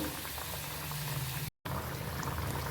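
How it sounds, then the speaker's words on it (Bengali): A fish and onion curry boils hard in the pan, giving a dense, continuous bubbling hiss with one brief dropout midway. "তো মাছ পেঁয়াজের ঝোলটা খুব ভালোভাবে ফুটে যাচ্ছে।"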